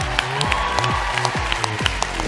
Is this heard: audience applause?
yes